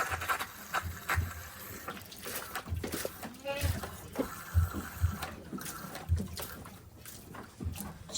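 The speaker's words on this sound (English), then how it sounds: "You can hear the water, the air in the line." Water sputters and splashes as air clears from freshly filled lines of a homemade automatic goat waterer on a Jamaican farm, irregular gurgling bursts with someone talking over them.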